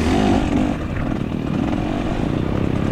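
A 2024 KTM 300 XCW two-stroke dirt bike racing a hare scramble in Oak Ridge, engine buzzing loud and close with a rapid pulsing rhythm, throttle rising and easing, no talk.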